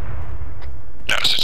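T-80 tank cannon firing in the video game Arma 3, a sudden loud, sharp blast near the end that breaks through a low, steady rumble.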